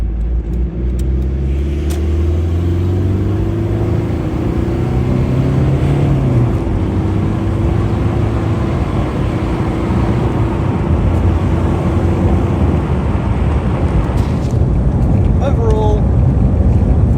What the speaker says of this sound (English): how does it actually sound from inside the car?